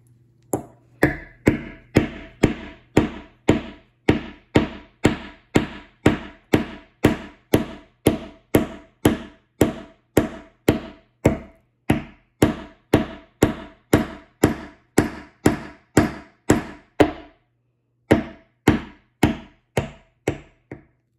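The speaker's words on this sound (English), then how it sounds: "And then hammer it in." Steady hammer blows drive a support piece into a children's wooden tank kit, about thirty sharp, evenly spaced wooden knocks that ring out close and loud, with a short pause near the end before a few final strikes.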